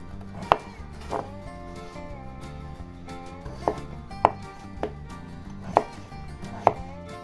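Peeled potatoes chopped with a knife on a board, a few sharp distinct cuts at an uneven pace, close and fairly quiet with no talking.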